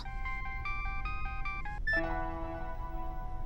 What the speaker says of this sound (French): Nirmal, s'il te plaît, veux-tu bien couper mon téléphone